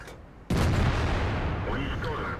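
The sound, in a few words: artillery fire in a tank video game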